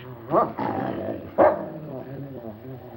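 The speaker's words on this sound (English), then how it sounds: "Your dog seems to have taken a dislike to me, sir." A dog lets out two sharp barks over low, rumbling growls, close by in an old 1942 film soundtrack.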